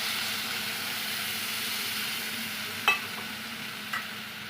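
Water spinach with turmeric and chili powder stirred in a hot pan, giving a steady low sizzle with two sharp clinks of the utensil against the pan near the end.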